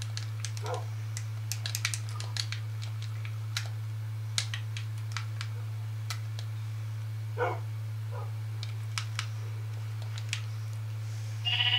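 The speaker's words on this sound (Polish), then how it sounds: "Owca, chodź, jedz trawę." Minecraft sheep bleating in a few short, separate calls over a steady low hum, with faint clicking and keyboard-like taps between them.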